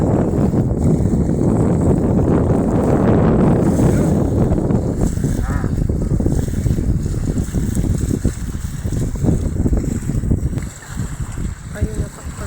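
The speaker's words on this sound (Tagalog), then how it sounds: "Sobrang hangin." Strong wind roars and buffets loudly across a seaside dike during a storm, heaviest in the first seconds and easing slightly later, with a voice speaking briefly over it.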